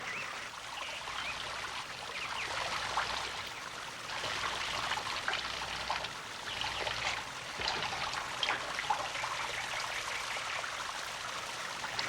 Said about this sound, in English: then the water trickles out the little holes, making a small shower